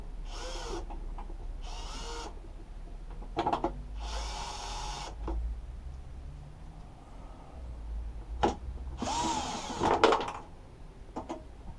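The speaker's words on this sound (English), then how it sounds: "if you just heard that noise, that bolt is just fell out" A bolt drops out of a lawn mower under restoration, giving small metallic clinks and a rattle amid intermittent bursts of tool and handling noise in a quiet workshop, with no talking.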